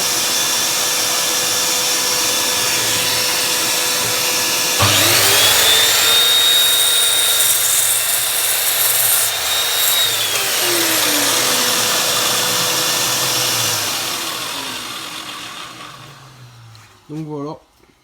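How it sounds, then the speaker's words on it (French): A Woodstar 1500W miter saw with its dust-extraction vacuum cuts wood. The motor starts with a sudden whine, runs steadily, then spins down with a falling pitch, over a constant background hum, and a voice speaks briefly at the end. "on allume l'aspiration."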